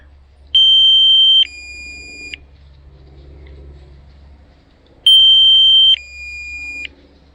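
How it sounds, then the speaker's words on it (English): Two bursts of shrill electronic warning beeps from a DJI Flip drone controller during low-level forest flying, each a high tone stepping down to a lower one, separated by quiet gaps with faint background noise. "Now we've got the horrible beeps going."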